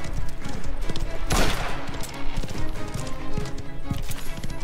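Horse hooves galloping in the video game Mafia: The Old Country, a rapid, continuous clatter of close clip-clops mixed with bursts of gunfire.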